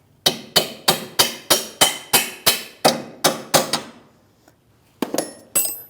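Hammer taps drive a rear suspension part of a 2016-2025 Chevrolet Malibu into place: about a dozen loud, evenly spaced metallic strikes, a pause, then a few more, close up and without talk.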